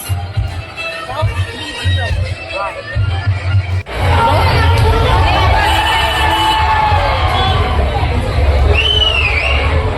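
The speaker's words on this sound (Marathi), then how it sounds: "एकदम जोरात चालू आहे सर्वीकडे हाऊसफुल गर्दी आज." A dense street crowd at the traditional Nashik Ranga Panchami colour festival roars with cheering, shouting and babble; it is louder near the middle, with whistles and a voice speaking over the din.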